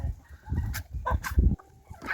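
Farmyard geese, including an old goose, calling in a few short honking and clucking cries amid low rustling and shuffling close by, with no talk.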